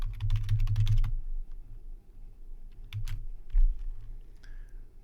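A burst of quick keystrokes on a computer keyboard as a password is entered, a rapid cluster of clicks followed by a pause and a few scattered single taps, close and clear.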